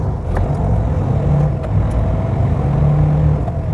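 A semi truck's diesel engine struggles on the road with gelled fuel, a loud, rough, continuous rumble from inside the cab with uneven surges and slight faltering in its drone, no voices.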